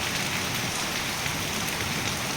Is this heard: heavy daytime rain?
yes